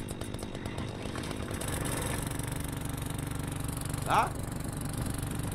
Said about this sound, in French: Le moteur pas du tout discret.